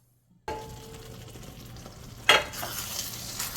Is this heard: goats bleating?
no